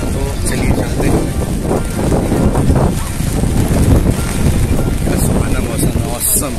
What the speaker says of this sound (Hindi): ठंडी हवा चल रही है, बहुत ही मज़ेदार।